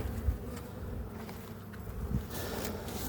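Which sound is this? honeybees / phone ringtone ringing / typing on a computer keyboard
honeybees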